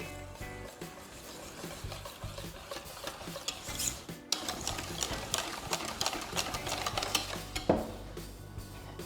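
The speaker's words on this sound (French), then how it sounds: "je mets le beurre dans le caramel et je mélange pour bien l'incorporer" Butter being stirred into caramel in a pan, with close, repeated scraping and rubbing strokes of a utensil against the pan and small clinks in an uneven rhythm, with no talking.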